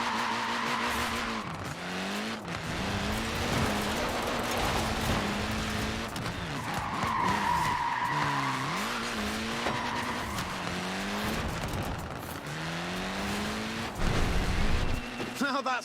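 Tyres squeal repeatedly as a tiny-wheeled Mini lays rubber in Forza Horizon 4, with shrill skids sliding up and down over a steady engine drone, while someone talks over most of it.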